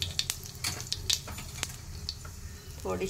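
Mustard seeds drop into hot oil on an iron griddle used for chapati, giving a quick burst of small crackling pops and sizzle up close, with a brief voice at the very end.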